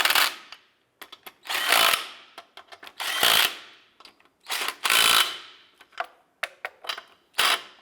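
An impact or power tool snugs down the wheel lug nuts on a 2001-2005 Honda Civic in repeated bursts, loud and close, with short whirring runs broken by pauses and quick clicks.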